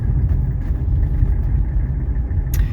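A 1983 Mercedes 300CD sits idling as its engine warms up. The low, steady rumble stays close and even throughout, with a short brighter click near the end.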